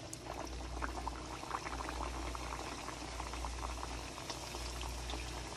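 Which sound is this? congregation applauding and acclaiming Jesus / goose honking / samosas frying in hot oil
samosas frying in hot oil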